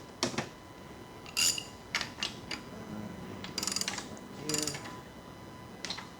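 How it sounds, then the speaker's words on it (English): Crankshaft of a 1986 Porsche 944 Turbo turned by hand on a bare block with no pistons fitted, giving scattered metallic clicks, ticks and short ratcheting scrapes in bursts, fairly quiet in a workshop. "Crank turns nice without the pistons in."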